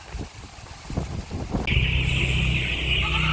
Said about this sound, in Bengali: দেখেন প্রচুর বাতাস হচ্ছে